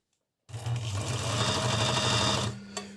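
An Agat DonLock 54D6 overlock sewing machine stitches at maximum stitch length while its knife trims the fabric. After a moment of silence it gives a steady, loud, rapid mechanical hum lasting about two seconds, then stops.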